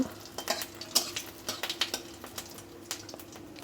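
Whole cumin seeds fry in a pan before bottle gourd goes in, giving a quiet sizzle broken by irregular spatula clicks and scrapes against the metal.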